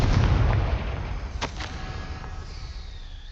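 A Confringo fire spell cast in Hogwarts Legacy lets off a sharp, crackling blast with a short whip-like burst and a rumbling low tail, loud and close against the game's ambient background.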